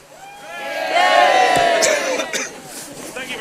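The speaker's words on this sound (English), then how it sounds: "And the crowd would cheer!" A tour group at the Tower of London raises a loud, brief cheer and shout on a Yeoman Warder's cue, swelling and then fading into scattered voices and chatter.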